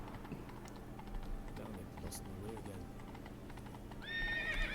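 A horse in The Witcher 3 video game: rhythmic hoof clip-clops at a steady gait, then a loud, clear whinny rising at the end, with faint keyboard clicks in the background.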